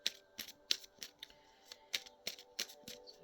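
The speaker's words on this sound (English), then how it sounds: "I shuffle the cards here." A deck of tarot cards is shuffled in a series of crisp, evenly spaced riffling snaps, close and clear in a quiet room.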